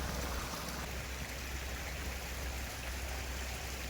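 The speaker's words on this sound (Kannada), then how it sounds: "ಕಬ್ನಿ ಚಾನಲ್ ನೀರು ನೋಡ್ತಾ ಇದ್ದೀರಾ." Water of the Kabini canal flowing past farmland, a steady, even rushing and trickling wash that continues without pause and has no voices over it.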